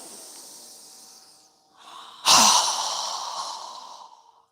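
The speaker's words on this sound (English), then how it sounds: "So go ahead and inhale. Strong breath." Forceful breathing during a yoga breathing exercise: a long, soft airy inhale, then a sudden loud, hissing exhale through the nose that slowly fades, close and clear.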